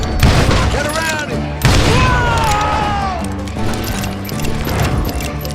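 Dense gunfire from a crowd of hired gunmen in the Western shooter Call of Juarez: Gunslinger, with loud overlapping shots and booms and a roaring burst near the start and again around the two-second mark, plus ringing ricochet-like tones.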